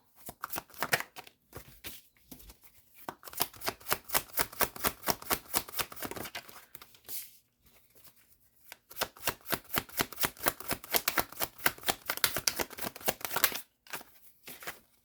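Tarot cards shuffled and drawn by hand: rapid, close riffling bursts of stiff cards flapping, with short pauses near the middle and end, and no voices.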